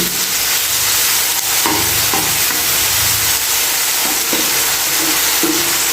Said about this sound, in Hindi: ऑयल मीडियम फ्लेम पे इनको हल्का सा गोल्डन कर देते हैं